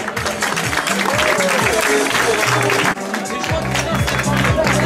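Outdoor crowd applauding award winners at the Trail de la Paix trail-running race, sustained loud clapping mixed with cheering and voices, with music or announcer sounds underneath.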